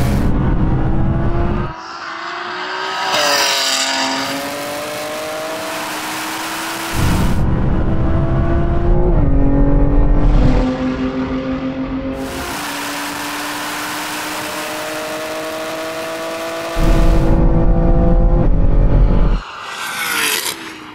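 Lamborghini Revuelto and a tuned BMW M3 Touring in a third-gear roll-on drag race, engines roaring loud and close with rising revs, several sharp gear shifts and repeated surges of acceleration.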